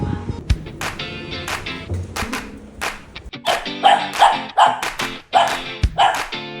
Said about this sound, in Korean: 언니는 뭐 때문에 짖는지 도저히 알 수가 없네요